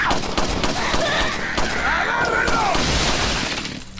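Gunshots in the video game Resident Evil 4, a rapid volley of loud cracks with glassy shattering and ringing, dense and continuous under a busy game soundscape before tapering off.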